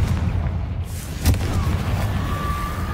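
Confringo explosion spell cast in the video game Hogwarts Legacy, a single sharp booming blast over a dense rumble of combat noise, close and loud.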